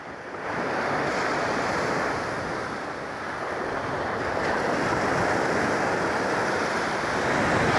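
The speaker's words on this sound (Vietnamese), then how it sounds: "Cảm giác sóng biển khá to." Sea waves break on the beach at Mui Ne in Vietnam, producing a loud, steady wash of surf mixed with gusting wind buffeting the microphone, with no talk.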